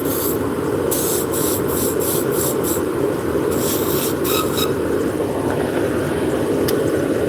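A beading tool cuts into a spinning wood workpiece on a lathe, giving a steady loud hiss with a run of short scraping bursts where the tool bites, heard close and alone.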